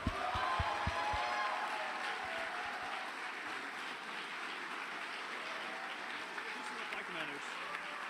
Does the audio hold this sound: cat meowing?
no